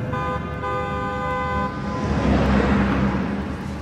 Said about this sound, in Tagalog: may isa pang sasakyan na paulit-ulit na nagbubusina sa aming likuran